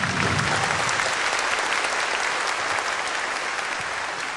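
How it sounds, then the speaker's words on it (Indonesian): Studio audience applause on an Indonesian television talk show, a dense, steady burst of clapping that fills the room and carries on evenly for several seconds without any talk over it. "tepuk tangan dong untuk Mas Benny"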